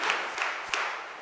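An audience at an NCC annual training camp gives a brief, soft round of clapping, with a few claps heard at a distance.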